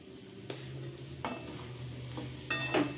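A utensil stirs salt through Hakka noodles in a pan, with soft scraping and clinks at a few uneven moments over a low steady sizzle, close and fairly quiet.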